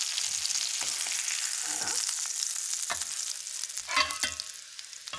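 A capon fillet sears in a cocotte with a steady loud sizzle and a few stirring knocks, and a voice speaks briefly near the end.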